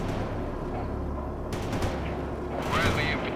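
Bradley fighting vehicle cannon fire in the strategy game World in Conflict: rapid, rattling bursts over a rumbling engine and battlefield din, growing louder and busier toward the end.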